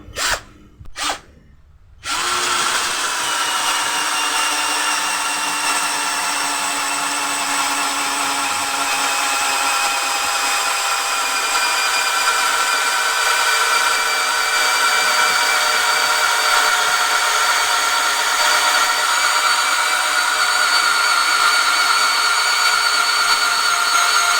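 A few short trigger bursts, then a 12V cordless drill on speed 1 with a 20 mm spade bit whirs steadily for over twenty seconds, a loud sustained whine as it bores through 12 to 16 cm thick teak wood.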